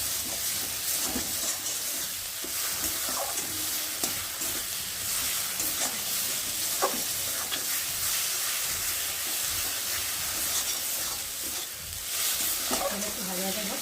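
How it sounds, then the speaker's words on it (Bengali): Poppy seed paste and mustard paste frying in released oil for a rohu fish curry, with a steady broadband sizzle and hiss and scattered scraping stir strokes throughout, close and continuous with no talk. "একটু ভালো করে নাড়াচাড়া দিয়ে একটু ভেজে নেব।"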